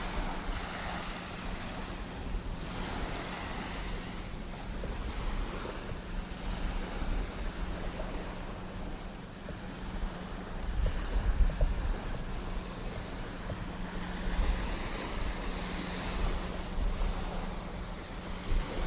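Waves lap at the waterfront behind a bar in Key West, a soft, continuous wash and roll with gentle swells rising and falling, mixed with light wind rumble on the microphone.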